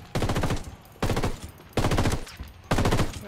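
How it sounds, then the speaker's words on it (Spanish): Four bursts of rapid automatic gunfire in the shooter video game Ghost Recon, each lasting about half a second with short gaps between, loud and close. "Disparo ahí a bulto."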